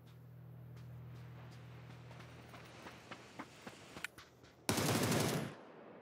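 Gunfire in a battle royale video game: a string of sharp, separate shots cracks out, then a dense, loud automatic burst lasts about a second before it cuts off.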